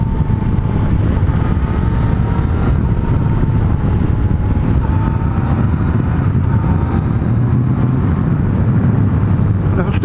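A Yamaha Tracer 900 GT motorcycle rides downhill on twisty roads, its loud engine drone blended with heavy rushing wind buffeting the microphone throughout, with slight shifts in pitch as it rolls.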